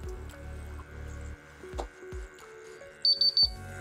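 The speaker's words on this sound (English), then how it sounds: "if I remove that gas, we can see the alarm is eliminated" A Watchgas Neo PID gas detector sounds its alarm as a short burst of rapid, piercing electronic beeps. Faint clicks and drips come before it, and there is no talk.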